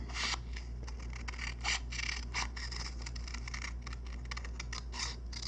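Scissors snip through paper for a craft cutout, a steady run of crisp, close cuts and rustles with a low hum underneath and no talking.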